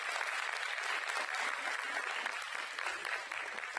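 A crowd at a music and arts cultural program applauds a volunteer, with continuous, even clapping that sounds faint and somewhat distant and is sustained without pause.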